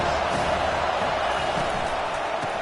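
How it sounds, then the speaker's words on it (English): A football stadium crowd sends up a continuous wash of cheering and roaring noise, steady and moderately loud throughout, with no clear single voices standing out. "This crowd bringing the energy and noise early."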